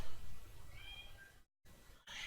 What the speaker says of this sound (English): If you hear a meow, it's my kitten.